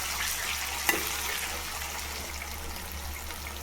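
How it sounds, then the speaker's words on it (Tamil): Onion, tomato and ginger-garlic paste fry in a pan for a kara kulambu while being stirred, giving a steady close sizzle with one sharp scrape or knock of the spoon early on. "கிளறி விட்டுறேன்."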